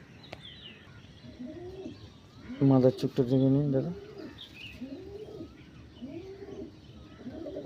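Nod pigeons cooing in a loft, a series of low rolling coos repeating steadily at moderate volume, with someone speaking briefly over them midway.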